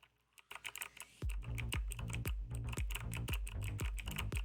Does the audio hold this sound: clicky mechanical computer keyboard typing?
yes